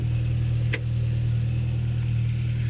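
A Ford Mondeo race track car engine runs steadily near its intake, a loud, even droning hum with a strong low tone and one brief click partway through.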